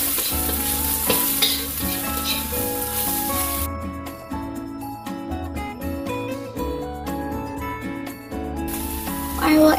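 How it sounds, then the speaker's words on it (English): Chicken gizzards fry with turmeric powder for a Burmese gizzard curry, a lively sizzle with stirring scrapes, running beneath steady melodic background music that briefly drops away in parts. "let's add turmeric powder and fry them again."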